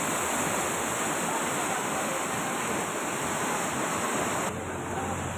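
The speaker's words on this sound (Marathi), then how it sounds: "ढगफुटी सदृश पावसामुळे बाजार पटांगणावर पुराचं पाणी आलंय" Floodwater from a cloudburst-like downpour surges across an open market ground, a loud, steady broadband rush like a torrent with a faint high whine running through it, unbroken for the whole stretch.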